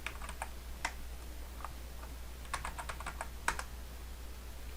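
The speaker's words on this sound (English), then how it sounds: "So I'm going to type in Rob and Cisco" Typing on a computer keyboard at a desk with two monitors: short bursts of crisp key clicks and scattered single taps over a low steady hum, no one speaking.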